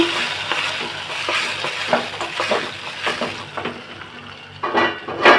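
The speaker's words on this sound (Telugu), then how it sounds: "ఈ పోపుని దీనిలోకి వేసేసుకోవడమే" Hot tempering of garlic and onion poured into gongura tomato curry, giving a soft frying sizzle with a few light clinks of a spoon against the pan and a brief louder splash near the end.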